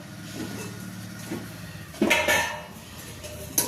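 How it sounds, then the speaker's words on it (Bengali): A pan lid is lifted off pitha cooking in a pan, giving one short metallic clatter and clink over a low, steady background hum. "খোলো, ঢাকনা খোলো।"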